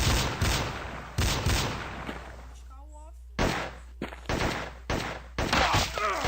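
Rapid gunfire from a PC shooter game, firing about two shots per second, comes in sharp repeated bursts separated by brief gaps, with players talking excitedly throughout.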